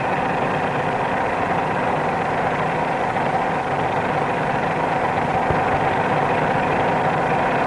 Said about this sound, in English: Another cue to the correct climbing attitude is the sound of the engine. It's working harder than it did in level flight